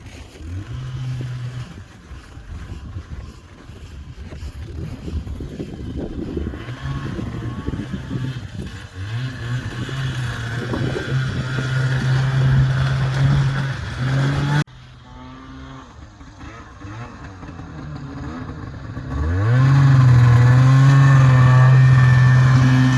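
Snowmobile with freshly welded handlebars running on a test drive outdoors, its engine droning and revving as it moves, fading and returning, then a loud steady rumble as it passes close near the end.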